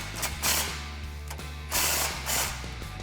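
A ratchet clicks in quick bursts, tightening the exhaust clamp on the passenger-side X-pipe of a 2018-2019 Mustang GT Magnaflow Competition cat-back system; close, crisp pawl ticks come in a few short runs with brief pauses.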